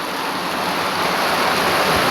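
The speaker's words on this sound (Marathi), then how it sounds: "त्याच्यात हा पाऊस पण असा कसा पाऊस पडतोय" Heavy rain pouring steadily during an unseasonal summer downpour, a dense continuous hiss at close range and loud, with no talk and no breaks.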